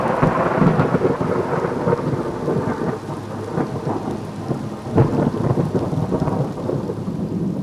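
A thunderstorm rolls on with steady heavy rain and deep rumbling thunder, and louder cracks and crashes from lightning strikes break through the constant downpour.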